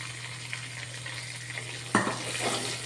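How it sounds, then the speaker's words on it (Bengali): Mustard powder with salt frying in a pan for mango achar makes a soft, steady sizzle with a low hum underneath, and a spoon clatters against the pan near the end. "এই মশলাটাকে একটু ভাজা ভাজা করে নেবো।"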